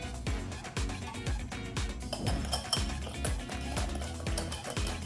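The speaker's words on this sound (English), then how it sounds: "And just kind of whisk it up." A whisk beating oil and seasonings in a bowl for spicy air fryer nuts, rapid repeated metallic clinks and taps against the bowl in a steady rhythm, close and continuous.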